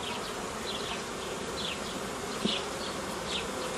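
A steady swarm of honeybees in a vertical hive buzzes continuously, with individual bees droning past now and then over the dense hum.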